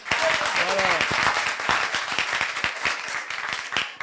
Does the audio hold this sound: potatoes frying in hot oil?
no